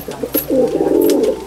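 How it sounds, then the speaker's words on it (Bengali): Kaldum pigeons in a loft give a run of low, rolling coos, close and fairly loud, with soft wing or movement noises between calls and no talking. "দুটোই কালদুম পায়রা আছে"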